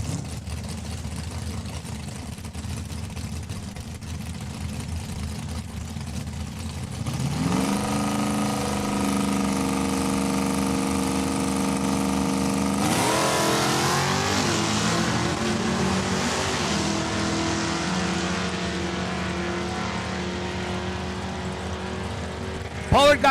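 A 1969 Chevelle and a 1976 Mopar Roadrunner at a drag race: deep, droning V8 engines build from a muffled rumble into loud, rising revs as the cars launch and pull away, with an announcer talking over them.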